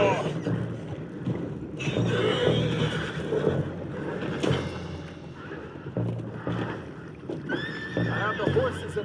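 Horses whinny and snort amid chaotic action in Red Dead Redemption 2, with hooves, thuds and water-like noise mixed in, while voices talk over the commotion.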